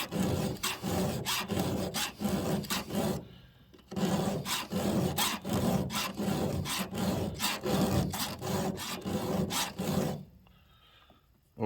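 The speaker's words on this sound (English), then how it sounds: "I'm filing straight across and then slightly up at the end" A hand file strokes across the teeth of a chainsaw chain in a quick, even rhythm of rasping pulls, close and clear, broken by two short pauses, with no voices.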